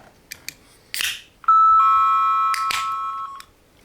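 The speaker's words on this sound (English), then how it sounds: "Ding dong." A doorbell chime rings out loudly as two sustained electronic tones, following a few brief clicks and a rustle, then fading after about two seconds.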